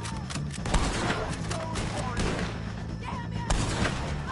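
Gunfire in the open-world western video game Red Dead Redemption 2, several sharp shots cracking out over a steady ambient game soundscape with faint voices and background noise.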